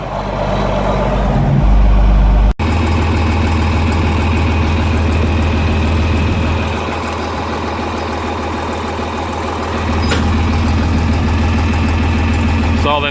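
Old farm tractor engine started and running steadily on wash day, a loud, deep idle with a sharp break early on, then continuous low rumble with slight rises in level toward the end.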